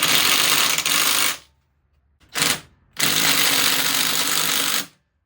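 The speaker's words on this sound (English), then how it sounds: "Now on these nuts, I just run them tight with an impact." A small impact wrench runs nuts down tight on a Honda CRF110 engine, firing in loud close bursts of rapid hammering: a long burst, a brief blip, then another long run.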